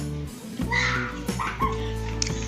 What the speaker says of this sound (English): Kids are playing outside with a dog.